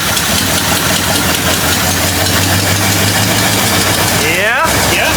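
An old Jeep that sat unused for 25 years runs in four-wheel-drive low, giving a loud, steady, rough engine drone with a brief rising whine near the end.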